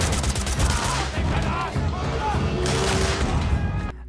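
A burst of sustained gunfire, sailors being fired upon while their ship is seized, rattles as a dense fusillade over a few seconds of a documentary's dramatic soundscape.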